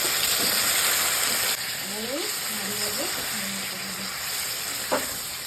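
Ilish fish heads and taro corms simmer in a curry as water goes into the hot pan, giving a steady close-up sizzle and hiss that eases slightly partway through, with a voice talking over it.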